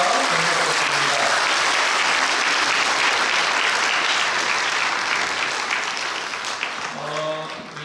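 A congregation at a church retirement thanksgiving service claps loudly and steadily. The dense applause tapers off near the end as a voice begins speaking.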